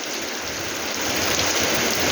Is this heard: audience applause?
no